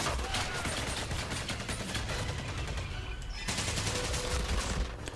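Rapid, dense gunfire with automatic weapons and overlapping shots fills a Medal of Honor: Pacific Assault battle scene. It runs loud and continuous, with a brief dip midway.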